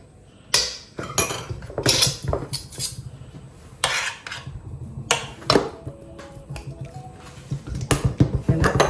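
Metal utensil scrapes and clinks against a dish while spices are mixed for a lamb colombo, an irregular series of loud close clattering strokes with no talking.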